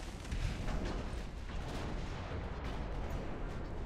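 Warship artillery in a naval battle game firing shells, heard as a dense, rumbling barrage of distant booms layered over one another at moderate volume, with no talking.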